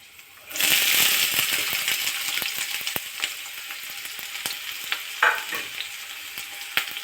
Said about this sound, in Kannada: ಇವಾಗ ಈರುಳ್ಳಿ ಹಾಕ್ತಾಯಿದ್ದೀನಿ ವೀಕ್ಷಕರೇ.